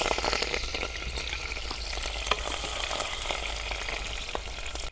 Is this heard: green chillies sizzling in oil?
yes